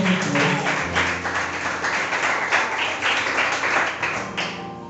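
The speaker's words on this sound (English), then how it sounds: "claps for him." Sustained crowd clapping at a FundaUC interactive event, many hands beating in a dense, even patter that holds steady at moderate loudness throughout.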